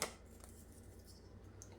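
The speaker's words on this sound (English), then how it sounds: "we're gonna bring our scissors over here. We're gonna trim this off." Scissors trimming paper for a scrapbook page: a soft, close snip at the start, then a few faint cuts and rustles over quiet room noise, with no talking.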